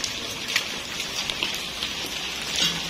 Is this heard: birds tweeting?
no